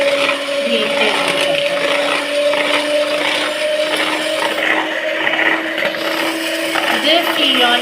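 Whipping cream beaten with an electric hand mixer for a simple cake, a steady loud motor whir with scraping and clatter of beaters against the bowl throughout.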